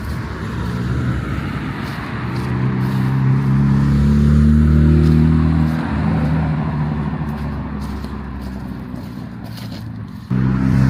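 A Mitsubishi Lancer Evo 10 pulls out of a car meet, its engine droning up through a long, loud rev before easing off, with a deep rumble that stays close and strong throughout and no voices over it.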